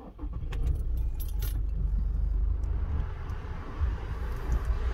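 Keys jangle, then a 2021 Toyota SW4 SRX diesel SUV engine starts and settles into a steady, close low rumble, with no talk.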